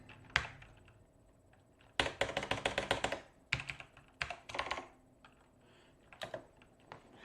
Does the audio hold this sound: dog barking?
no